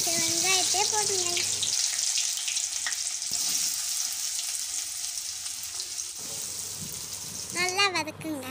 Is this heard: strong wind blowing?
no